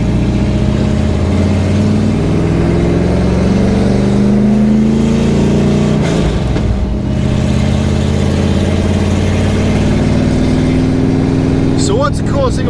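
A 1977 Dodge Aspen with open headers drives and accelerates, its loud, rumbling V8 exhaust droning close up with rising and falling revs, while people talk over it.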